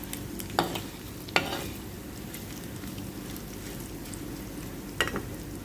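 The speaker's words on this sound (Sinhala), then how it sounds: "ගොඩාක් හීනි ගින්දරේ තමයි මේ බදින්නේ" Meat fries in a pan over low heat, a soft steady sizzle with a few sharp clinks and scrapes of stirring, no voices.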